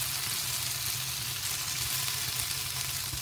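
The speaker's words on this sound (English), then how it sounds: "So they absorbed the oils that I had put in my pan, and now they're just going to season and cook." Potatoes sizzle steadily in oil in a pan for a vegan breakfast potato scramble, a continuous close frying hiss with no talking.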